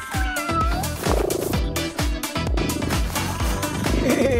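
A cat meows repeatedly, a steady series of close, loud, tonal cries in a fairly even rhythm, with a few longer drawn-out wails, and no talking.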